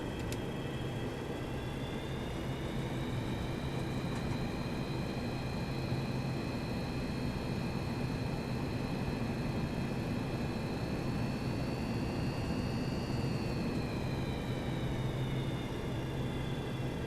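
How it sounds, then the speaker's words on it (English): A Boeing 737-200 APU spooling up on the ground in X-Plane, giving a steady broadband roar with a high turbine whine that rises and holds, continuous and moderately loud with no voices. "The APU is coming on. APU is coming online."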